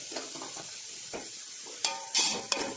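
Onions with salt sautéing in a pot for chicken dum biryani, a soft continuous sizzle with occasional spoon scrapes and a couple of sharper metallic clinks near the end, no voices.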